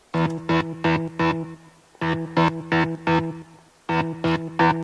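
Synthesized notes in a steady 16-step pattern, played in three short bursts of rhythmic, evenly spaced hits with brief gaps between phrases, no voices.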